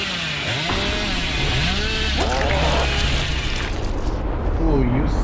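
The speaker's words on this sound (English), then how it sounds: "Show him the chainsaw" A chainsaw revs and roars in the horror video game Dead by Daylight, loud and rising and falling in pitch, with voices talking over it.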